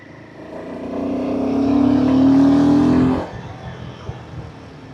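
A Royal Enfield Himalayan 450 motorcycle in city traffic gives a rising engine growl that swells loudly to a sustained peak, then cuts off abruptly, leaving quieter traffic rumble behind.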